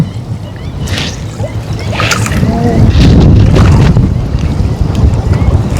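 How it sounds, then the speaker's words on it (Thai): Strong wind buffets the microphone beside a reservoir during lift-net fishing, a loud, gusting roar that swells toward the middle, with water lapping and a voice speaking over it. "ลมแรงมาก"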